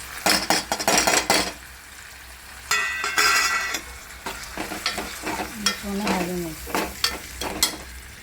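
Tomatoes sizzle while roasting in a pan as garam masala is added, with intermittent scraping and clinking of a spoon against the pan in bursts between quieter stretches of frying.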